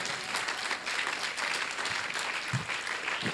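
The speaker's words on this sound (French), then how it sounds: "Quelqu'un acclame les mamans ici" An audience claps steadily and densely for the mothers during a French-language talk on supplication, a continuous wash of applause filling the whole moment.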